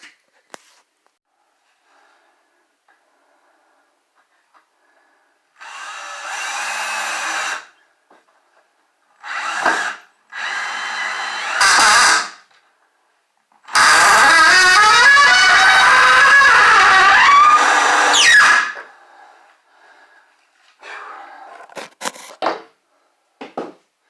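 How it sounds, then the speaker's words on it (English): A power drill countersinks screws into wood for a cabin bathroom door, running in several separate loud bursts of whirring and grinding, the longest lasting several seconds, with quiet pauses between them and no talking. "I'm countersinking these screws"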